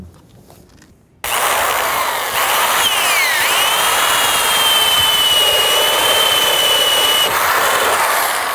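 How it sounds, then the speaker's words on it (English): After a quiet moment a power drill starts up and whines steadily for several seconds, loud and close, its pitch shifting slightly as it bites into a plastic barrel. "we're going to drill the hole for the faucet to attach to the barrel"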